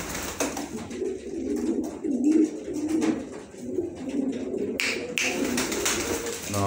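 Pigeons coo in a loft with repeated soft, throaty rolling calls that run almost continuously and sound close, with a few brief taps and bird movements mixed in.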